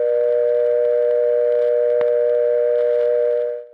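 A synthesized imitation of an old-fashioned telephone dial tone, built from high harmonics of 120 Hz, holds steady and loud for a few seconds with a faint click midway before fading out at the end.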